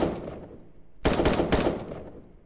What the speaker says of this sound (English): I can actually break blocks by shooting them.